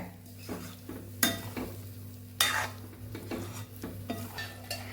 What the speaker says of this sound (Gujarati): હવે આને મિક્સ કરી દેવાનું છે આપણે.